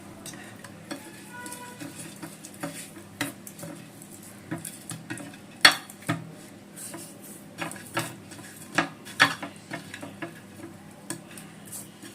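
Tilapia fish is worked by hand with salt, turmeric and mustard oil in a bowl, giving soft, irregular squelches and light knocks against the dish, quiet and close with no talking.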